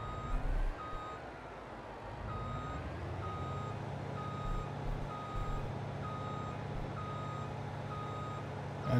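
A vehicle in Farming Simulator 22 backs up in a low gear: steady, evenly spaced reversing beeps ring over a low engine rumble for the whole stretch, moderately close and clear with no talk.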